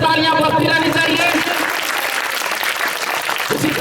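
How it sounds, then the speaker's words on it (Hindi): Loud, sustained audience applause at a theatre festival honouring ceremony, with a crowd clapping steadily throughout and a brief voice-like tone near the start. "जोरदार तालियां बजती रहनी चाहिए।"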